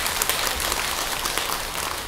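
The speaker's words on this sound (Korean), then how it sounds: "박수 한번 보내," Steady applause from a temple audience during a Buddhist dharma talk, a dense, even patter of many hands with no talking.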